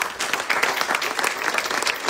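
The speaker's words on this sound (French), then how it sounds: "on peut les applaudir" Audience applause at a church inauguration, a dense, steady wash of many hands clapping together, loud and close, with no talk over it.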